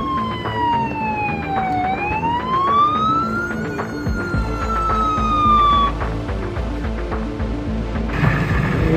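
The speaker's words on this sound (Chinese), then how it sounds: "消防车到了" A fire engine siren wails in rising and falling sweeps as the truck arrives at a temple archway fire in Xingang, Taiwan, started by firecrackers, loud and close over a steady engine rumble with dense street noise throughout.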